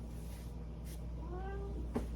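A cat gives a single short meow, fairly close and clear over a quiet indoor background hum, with no talk.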